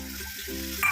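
Hot water poured into a Bengali prawn masala with cashew paste frying in a pan; a loud, steady sizzle runs throughout and swells sharply near the end, with no talking.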